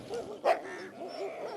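Dogs vocalize with a short whimpering, yipping bark at moderate distance, one sharper bark standing out among softer whines.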